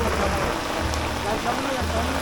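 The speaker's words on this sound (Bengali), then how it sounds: "এই মুহূর্তে প্রচণ্ড বৃষ্টির জন্য এখানে নৌকা বাইজা এখানে বাইরে কি পরিমাণ বৃষ্টি হচ্ছে" Heavy monsoon rain drums steadily on a small wooden boat moored in the flooded Ratargul swamp forest in Sylhet, a dense, continuous downpour with no pauses.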